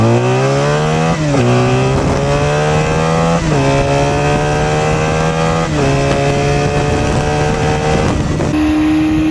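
A Honda Magna motorcycle fitted with a 4 into 1 exhaust revs loudly and close by. It climbs through the gears in repeated rising pulls, and each pull ends in a quick shift.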